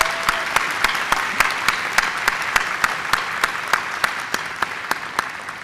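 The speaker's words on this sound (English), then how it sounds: "I think we should give Julie another round of applause." An audience at the ICRA 2022 robotics conference applauds after a talk, a dense, even patter of many hands clapping continuously.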